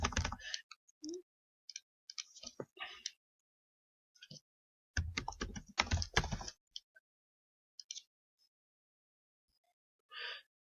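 Password being typed on a computer keyboard: scattered bursts of quick keystrokes with pauses between, close and fairly quiet, with a few isolated clicks and no speech.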